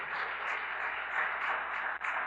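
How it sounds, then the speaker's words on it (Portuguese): An indoor church congregation applauds together, producing a steady, even wash of clapping that holds at a moderate level throughout the short stretch with no speech over it. "e essas palmas são para ele."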